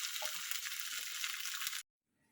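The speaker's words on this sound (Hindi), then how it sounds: "ये देखिए, इसको भी हम लोग फ्राई कर लेंगे जब तक कि इसका रॉस ना चला जाए" Ginger garlic paste sizzles loudly and steadily in a pan with browned onion for a curry, a bright continuous hiss that cuts off abruptly into near silence.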